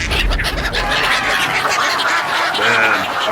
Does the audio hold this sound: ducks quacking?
yes